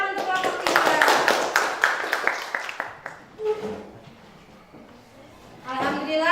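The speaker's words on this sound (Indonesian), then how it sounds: "Tepuk tangan untuk kelompok 3." Classroom clapping for the third student group after their presentation, a burst of sharp, uneven handclaps lasting a few seconds and then fading, with children's voices chattering nearby before and after.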